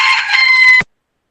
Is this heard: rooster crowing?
yes